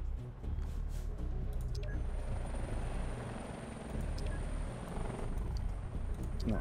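Helicopter in the video game Global Outbreak, its steady droning rotor whir continuous and fairly loud throughout, with no speech.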